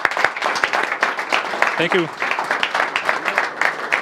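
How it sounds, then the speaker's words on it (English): An audience at a product launch claps in a steady round of applause, with a voice briefly speaking over the clapping. "Let's all give Jakub a round of applause."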